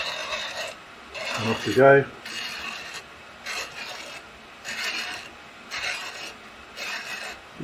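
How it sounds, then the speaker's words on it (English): A 35mm film strip of 36 exposures being wound onto a developing reel with a knob, giving repeated rasping, ratcheting bursts at a steady rhythm with short pauses between them; someone speaks briefly over it. "using the knob here, you know, not too slowly, but not too fast. There you go, you can hear it going onto the reel."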